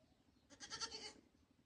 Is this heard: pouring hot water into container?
no